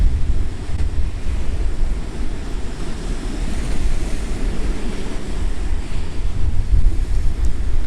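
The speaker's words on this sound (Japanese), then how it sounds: "白波が遠くから手前へこう押し寄せてくる感じです" Ocean surf rolling in toward the shore near Kakuda lighthouse, a steady broadband wash of breaking waves mixed with wind buffeting the microphone, continuous and fairly loud throughout with no voices.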